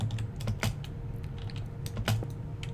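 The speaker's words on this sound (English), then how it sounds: "we're also going to be getting a new keyboard. One that does not sound like a jackhammer." A loud computer keyboard typed on in quick, uneven bursts, with sharp clacking keystrokes and a couple of heavier key hits standing out close to the microphone.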